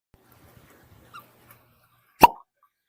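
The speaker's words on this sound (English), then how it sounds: "I love hearing that cork pop" A cork pops once, sharp and loud, from a bottle of 1792 Small Batch high-rye bourbon, with a brief ringing tail, following faint quiet handling noises.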